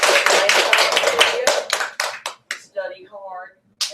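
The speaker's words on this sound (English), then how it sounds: "a great big round of applause" Brisk clapping from a group, dense at first and thinning into scattered claps, with a voice speaking briefly near the end.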